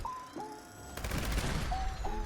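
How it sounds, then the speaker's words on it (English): A bloodied Gauss minigun in the video game Fallout 76 spins up with a rising whine, then unleashes a dense burst of rapid fire before a short whine returns, heard alone without talk. "I have this bloodied Gauss minigun, huge and cumbersome for one, but you can hear that wind up, and then it fires"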